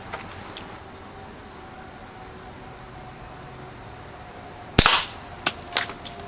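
A Sig air pistol fires a single pellet with one sharp, loud crack, followed by a few fainter ticks and clicks as the pellet strikes, against a quiet outdoor background.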